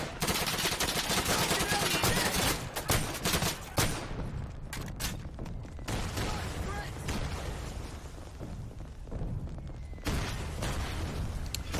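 A Bren light machine gun fires in the World War II shooter game Day of Infamy, in loud bursts of rapid automatic shots with short pauses between them, amid other battle gunfire and faint voices.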